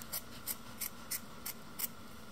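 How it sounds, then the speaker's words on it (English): Scissors cut through Ultrasuede fabric in six evenly spaced, crisp snips, each a short sharp crunch close to the listener, over a quiet room with no speech. "It's nice to have a different pair of scissors when you are cutting fabrics"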